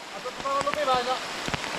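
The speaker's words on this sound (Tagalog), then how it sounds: "lakas ang ulan! Grabe." Steady rain hisses in the background while a person speaks briefly over it, a few soft taps cutting through.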